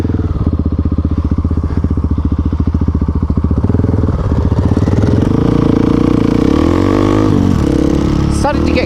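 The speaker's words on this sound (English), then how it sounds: "just get the air flowing over our bodies as we ride these motorcycles into the sun" Motorcycles cruising on a sunny, chilly rural road in Australia, a loud steady engine drone with a rhythmic pulse that climbs in pitch as they accelerate, plus wind rush over the rider.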